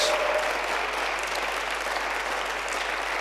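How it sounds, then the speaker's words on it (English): Loud, steady applause from a church congregation fills the whole stretch, a dense wash of clapping with some cheering mixed in, honoring the tech team during a Sunday service. "why don't we just give them a massive cheer?"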